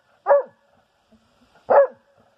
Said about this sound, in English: My dog's infatuated with him. She keeps barking at him and stuff